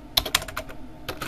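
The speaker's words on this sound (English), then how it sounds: "Always fail to type in jail list cells Griswold." A burst of typing on a computer keyboard as a command is entered, with quick, uneven key clicks and a short pause before a final cluster of keystrokes, close and clear with no talking.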